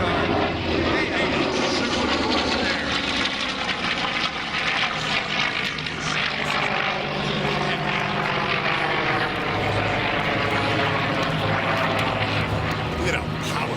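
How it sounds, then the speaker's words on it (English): A Super Corsair's radial piston engine roars continuously as it flies aerobatics at the 2012 Oshkosh AirVenture airshow, loud and full throughout, rising and falling with the manoeuvres over crowd and wind noise. "Super Corsairs in the world today, and we're being treated by beautiful, graceful aerobatics by Mr. Bob Odegaard."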